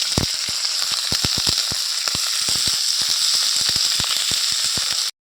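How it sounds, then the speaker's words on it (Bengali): Cauliflower florets fry in hot oil with a loud, close, continuous sizzle dotted by sharp spitting pops, ending abruptly in silence. "এদিকে কপিটা ভাজা হচ্ছে"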